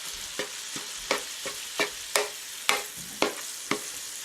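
Sausage fries in a pan for a chicken and sausage pizza while a spatula breaks it up, a rhythmic series of about ten scraping stirs over a soft sizzle.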